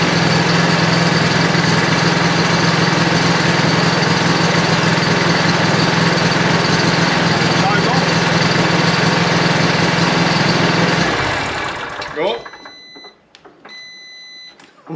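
A small engine, started with the help of an Itechworld JS80 3000A jump starter, runs loud and close with a steady buzzing drone for about eleven seconds, then sputters and dies, leaving a few faint clicks and beeps.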